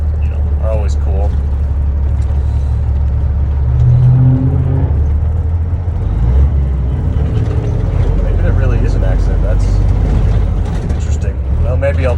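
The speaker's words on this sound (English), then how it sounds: "it's definitely a cat engine, and it's got the Jake brakes" A truck with a Caterpillar engine drones steadily and loudly from close by while driving, with a person talking over it throughout.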